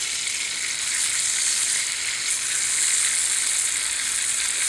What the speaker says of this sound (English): Little bit of halloumi cheese sizzling away here.